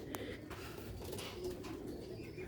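Faint, low cooing of Sialkoti rooftop pigeons against a soft background hum, with a few light taps.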